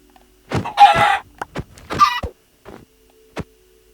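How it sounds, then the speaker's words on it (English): Video-game chickens cluck and squawk as they are killed, several sharp bursts of loud, close clucking over about three seconds, separated by brief silences. "What about if you kill a bunch of chickens?"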